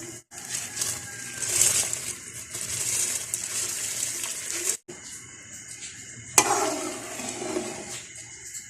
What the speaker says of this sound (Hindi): अब इसमें चावल डालूंगी।